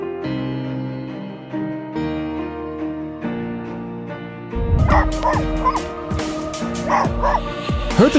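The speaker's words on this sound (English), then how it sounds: "Heard the cry of a dog." A distressed dog cries out in a string of yelps and whimpers after several seconds of steady music, the calls loud and close and repeating irregularly over the backing track.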